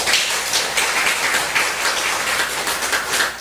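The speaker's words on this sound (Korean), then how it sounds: "우리 천지 사모님께 영광의 박수를 한번 올리겠습니다" A church congregation gives a minister's wife an ovation during a Sunday worship service. Many hands clap in a dense, steady patter that fills the hall at even loudness from start to finish, with no voices over it.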